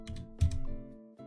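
Typing on a computer keyboard, a few close key clicks and taps layered over a steady background hum, brief and moderately loud.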